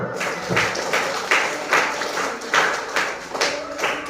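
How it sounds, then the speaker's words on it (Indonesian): A group audience claps in loose, uneven bursts at a religious talk about the life of the Prophet Muhammad, the applause close and fairly loud, swelling and ebbing with no voice over it. "Beri tepuk tangan dulu."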